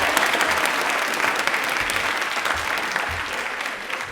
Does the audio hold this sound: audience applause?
yes